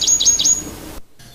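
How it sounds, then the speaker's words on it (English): A songbird sings a quick series of three bright chirping phrases, close and clear, before the sound cuts off into near silence. "this bird learns his songs, but from whom does he learn those songs?"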